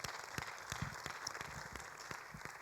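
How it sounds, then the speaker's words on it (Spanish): A church congregation applauds throughout, a steady wash of clapping heard at some distance and fairly faint, with no talking over it. "Den un aplauso fuerte al Señor"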